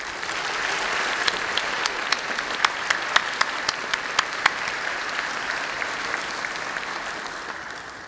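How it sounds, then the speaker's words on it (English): Warm, sustained applause from a large audience at a university senior recognition ceremony, dense clapping that holds steady for several seconds before easing slightly. "A round of applause for all of you."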